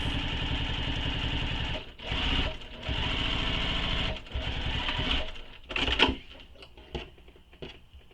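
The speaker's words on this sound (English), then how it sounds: "we're going to top stitch this seam using the seam allowance given in the pattern" Sewing machine top stitching a seam on a backpack, running in fast bursts of needle chatter with short pauses between runs, then slowing to a few isolated stitches and clicks near the end.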